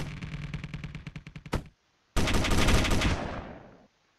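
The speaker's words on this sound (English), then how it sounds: "Approaching for a re-engagement and shooting out the 122mm guns at the Naiad." 122mm guns fire in a Space Engineers corvette-versus-frigate space battle: a fast rhythmic string of loud shots, a sharp final blast, a brief silence, then a sustained roaring volley that fades out.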